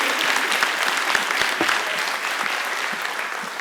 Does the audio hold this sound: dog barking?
no